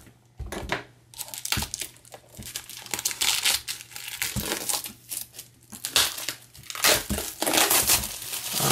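Plastic shrink-wrap on an Easton Press leather-bound edition of Plato's Symposium, Lysis and Phaedrus is cut and pulled away, giving close, repeated bursts of crinkling and crumpling with brief tearing sounds throughout.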